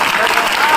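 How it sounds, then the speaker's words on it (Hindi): A crowd at a Bihar political rally bursts into steady, dense applause welcoming Prashant Kishor, loud and continuous with no gaps. "तालियों की आवाज नहीं रुकनी चाहिए।"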